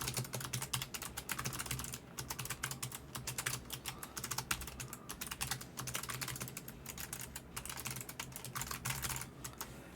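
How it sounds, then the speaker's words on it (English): Steady, rapid clatter of computer keyboard keys being typed, with mouse clicks mixed in, close and fairly quiet over a constant low hum, no talking. "let me type something"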